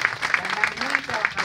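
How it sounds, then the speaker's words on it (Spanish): Crowd applause for Governor Kiko Vega at a public aid-distribution event, steady clapping of moderate loudness that runs throughout, mixed with talk from people present. "un aplauso para el gobernador Kiko Vega"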